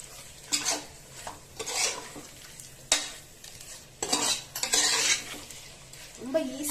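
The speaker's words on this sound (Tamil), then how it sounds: "இந்த மசாலாவோட இந்த சிக்கனை நல்லா பரட்டிக்கலாம். நல்லா சுருள சுருள நல்லா வதக்கி விட்டுக்குவோம்." Chicken sautéing in green masala in a pan gives a low sizzle under repeated scraping and clinking of a spoon against the metal, in uneven bursts at close range, fairly quiet and without talk.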